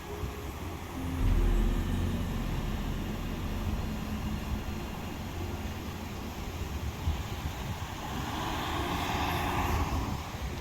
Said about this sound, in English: a guy revs his car right when he goes by